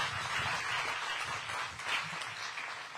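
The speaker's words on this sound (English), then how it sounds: "Let's give them a round of applause." Faint, distant audience applause for veterans hospital staff and volunteers, a steady wash of clapping from a crowd at a public event, with no voices over it.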